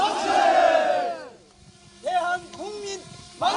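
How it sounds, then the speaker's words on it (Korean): A crowd at a March 1st centennial reenactment at a market in Cheonan shouts the Korean independence chant "manse" in loud, drawn-out collective cries, with a pause before two more short bursts of shouting. "다시 한번 대한독립 만세의 외침이 울려 퍼집니다"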